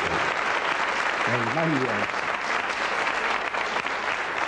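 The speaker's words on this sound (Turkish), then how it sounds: "O zaman alkışlayabilirsiniz." Studio audience clapping steadily and loudly throughout a television show taping, with a brief exclamation from a voice partway through the applause.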